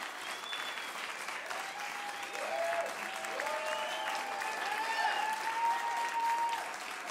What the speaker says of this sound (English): Let's give them a big God bless you clap